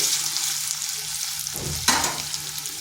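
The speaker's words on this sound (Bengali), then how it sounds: "পেঁয়াজটা হালকা একটু ভেজে নিচ্ছি।" Sliced onion frying lightly in a pan for a pumpkin recipe, giving a steady, close sizzle throughout, with a stir and a brief louder hiss near the middle.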